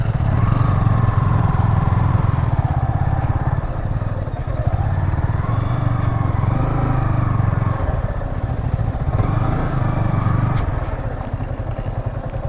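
KTM Duke 250 and Yamaha R15 sports motorcycles ride off-road near a farm, their engines droning steadily and close throughout, with the revs rising and falling over rough ground.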